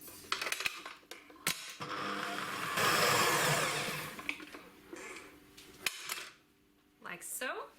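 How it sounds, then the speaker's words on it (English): Soft butter being mixed with cookie cream in a bowl for Oreo buttercream, heard as clinking utensil knocks and a sustained whirring, scraping mixing burst in the middle, with quieter clatter before and after. "I'm going to mix my soft butter with my cookie cream. And I'm just going to mix this for a few minutes."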